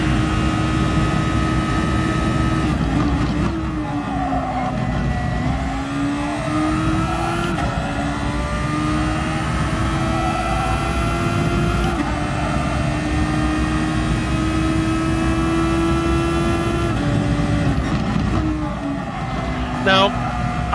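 DGT Thor race car engine lapping a circuit in a racing video game: a loud, continuous engine drone whose pitch rises and dips through gear changes and corners, with a voice talking over it throughout.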